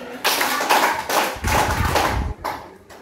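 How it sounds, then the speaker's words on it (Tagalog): A group claps together in five broad bursts, loud and close, with short gaps between each; no voices. "Bigyan nyo na limang palakpak ang inyong mga sarili."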